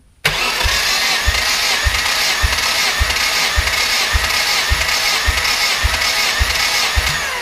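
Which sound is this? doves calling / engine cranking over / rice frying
engine cranking over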